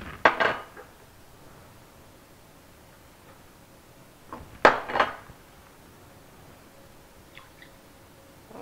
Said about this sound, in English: So just dump all these in to our bowl here.